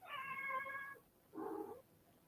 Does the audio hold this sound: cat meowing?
yes